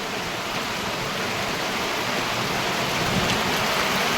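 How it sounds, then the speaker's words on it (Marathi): Steady rain pouring down outdoors on a farm, a dense continuous hiss filling the whole stretch at an even, fairly loud level with no voices. "आज उपटलेला आजच पाऊस सुरू झाला बघा"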